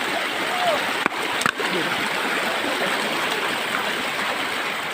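River water in Mindoro Oriental flows in a continuous broad rush with light splashing, steady and fairly loud throughout, with a couple of brief knocks partway through.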